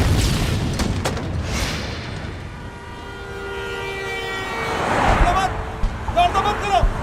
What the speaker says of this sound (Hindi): ये कारें आ जा रही हैं और धमाका।